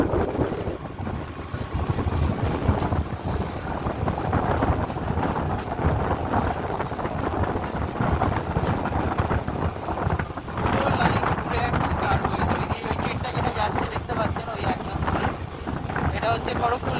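Howrah to Digha EMU local train rumbling steadily along the track, with wind buffeting across the whole stretch and a voice talking over the running noise.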